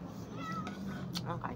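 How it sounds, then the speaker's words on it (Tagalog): A cat gives a short meow or two close by while a person talks over it, during a simple home meal. "Meron pong pusa, oh."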